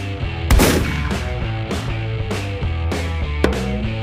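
Toy gunfire sound effect from a Transformers toy play scene, several sharp electronic shots in separate bursts over steady background music.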